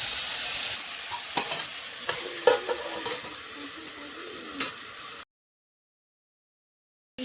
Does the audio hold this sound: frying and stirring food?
yes